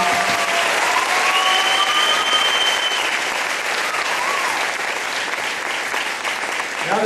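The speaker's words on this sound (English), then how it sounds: "So, round of applause for this team." An audience claps loudly for a girls' volleyball team at a farewell event, a dense and steady wash of applause that stays close and even throughout, with a few faint voices mixed in.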